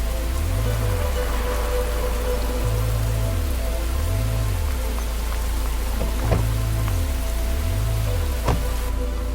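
Rain falls in a city at night as a steady, dense wash of drops on hard surfaces, heard over a low, repeating droning tone, with a couple of faint distant knocks.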